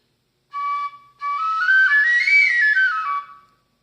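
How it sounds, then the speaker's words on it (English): A three-hole pipe played with one hand sounds two clear whistling tones, a short one and then a longer rising and falling phrase, close up and with no other sound around it. "This is called a 3-hole pipe. And it's designed to be played with one hand."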